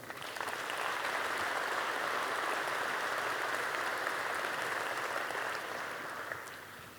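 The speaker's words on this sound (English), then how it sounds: "Let's give a round of applause for Sean." Sustained audience applause at a Pizza Expo keynote speech, a steady wash of clapping from a large crowd that holds for about seven seconds before tapering slightly at the end.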